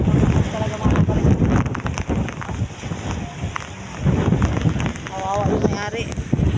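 Strong wind on an island coast buffets the microphone in a steady roar, with occasional voices underneath and a faint wash like rain or surf.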